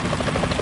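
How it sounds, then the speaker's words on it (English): A helicopter in the PS2 video game Metal Gear Solid 2 gives a brief, steady whir of rotor noise, loud and alone for under a second. "Is that a chopper I just heard?"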